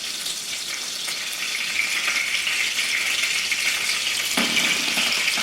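Butter sizzling in a frying pan on a home stove, a steady close hiss and crackle with faint clinks, no talking.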